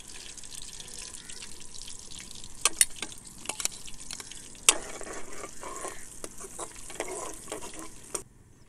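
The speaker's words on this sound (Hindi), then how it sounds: "गरम मसाले को ऑयल में थोड़ा सा भून लिया है।" Whole garam masala spices (cinnamon, cumin, black peppercorns) fry in hot cooking oil with a steady sizzle, broken by a few sharp crackles and pops, while a spoon stirs through them.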